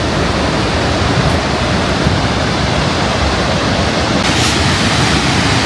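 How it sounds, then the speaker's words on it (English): A river flowing through Florence gives a steady, full-band rush of water, continuous and even throughout with no voices. "here you can see water flowing in this river"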